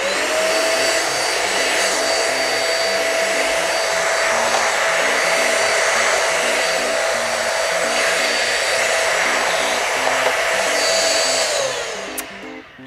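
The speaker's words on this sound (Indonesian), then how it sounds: "percobaan pertama adalah kita mau menyedot sobekan-sobekan tisu kering" A Deerma DX700 2-in-1 vacuum cleaner runs loudly and steadily as it sucks up scraps of dry tissue, its high motor whine holding constant before it winds down at the end.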